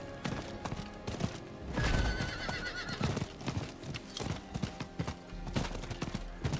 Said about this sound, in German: Mein Pferd geht rückwärts